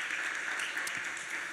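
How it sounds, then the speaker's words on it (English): A church congregation applauds the song leader after a time of singing, a steady wash of clapping throughout, moderately loud and with no voices on top. "Let's give him a clap."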